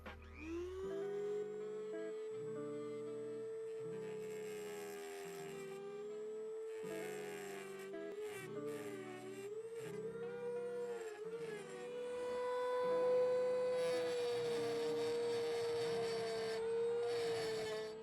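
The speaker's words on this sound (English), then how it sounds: "So after using the Dremel around that piece as well as these collars, both of these now sit" A Dremel grinds a motorcycle exhaust clamp collar during a 6-into-6 exhaust install on a Honda CBX, a steady high rotary whine that shifts pitch under load and continues throughout, with rhythmic rasping pulses underneath.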